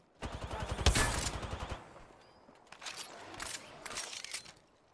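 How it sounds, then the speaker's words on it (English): A shotgun pistol fires in the video game Apex Legends: one dense burst of shots near the start, then softer scattered mechanical clatter and further shots in the background. "This is a shotgun pistol."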